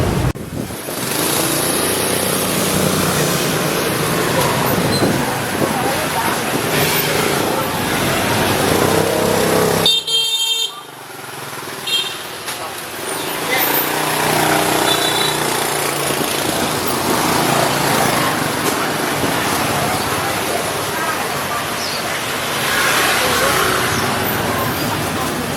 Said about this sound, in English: Many, many, many, many, many motor scooters